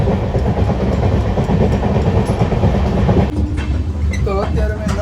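Inside a moving passenger carriage on a crowded Mahashivratri 2026 rail journey, wheels clatter with a loud steady clickety-clack and rumble. Faint voices come through near the end.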